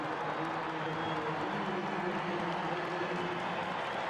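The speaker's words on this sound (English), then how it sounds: "Big cheer goes up." A stadium crowd at a Spain vs Colombia football match sends up a steady, broad roar of cheering that holds at an even level, with no single voice standing out above it.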